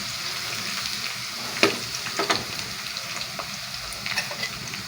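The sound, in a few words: green chillies frying and being stirred in a pan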